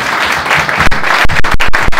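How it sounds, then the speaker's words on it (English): An audience at a cycling Q&A event in a Sigma Sports shop breaks into a loud round of applause that swells and runs steadily throughout, with a few sharper claps standing out near the end. "Round of applause for that one."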